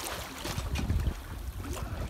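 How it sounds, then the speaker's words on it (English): A sailboat moves through gusty wind off Falmouth, with blustery wind rumbling against the microphone and soft water wash around the hull, no voices. "Lovely bit of sailing."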